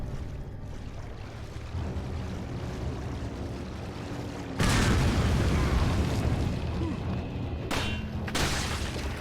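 A tripwire mine goes off in Resident Evil 4: one loud, close, booming blast bursts out of a low, rumbling backdrop and rolls on, with a couple of fainter pops after it and no voices.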